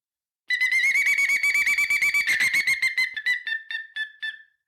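A pileated woodpecker imitation blown on a Ninja Hawk game call: a rapid run of loud, shrill whistled notes that speeds along steadily, then slows and spaces out into separate chirps before fading, close and alone.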